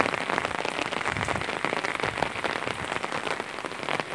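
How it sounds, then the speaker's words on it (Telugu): Heavy rain pours down near a house, a dense, loud, constant hiss of drops hammering surfaces, with no voices. "ఎంత భయంకరమైన వర్షం బా"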